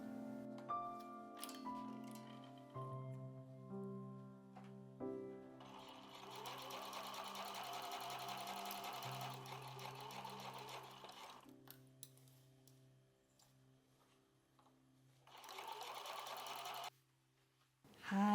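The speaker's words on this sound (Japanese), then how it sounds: "はい、全部縫いますよ。" A sewing machine stitches a hexagon patchwork shoulder bag in two long bursts of steady running, with soft handling sounds and a quiet pause between them and a brief clunk at the end.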